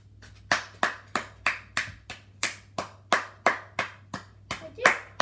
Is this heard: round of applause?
yes